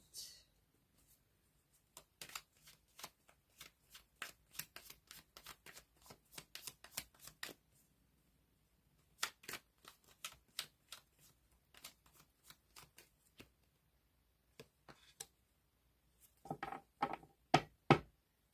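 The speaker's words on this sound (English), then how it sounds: "Cards are flying out." A deck of tarot cards is shuffled in repeated quick riffling bursts, crisp and close, with short pauses between rounds and a denser flurry of card slaps near the end.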